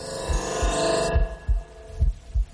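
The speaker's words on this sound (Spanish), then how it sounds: "Los secretos de los latidos del corazón." A documentary heartbeat effect thumps in steady, evenly spaced low pulses under a fading hum. Each beat lands close and heavy with a soft thud, and about six beats are heard.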